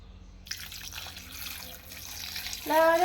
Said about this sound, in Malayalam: നമുക്ക് ഇച്ചിരി ഉപ്പുവെള്ളവും കൂടെ ഒഴിക്കാം